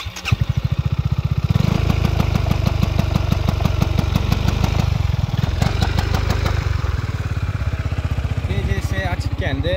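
Yamaha Xmax 250 scooter engine revving with traction control on, a loud close rapid pulsing idle that rises into repeated limited revs and cuts back, with a voice talking over it.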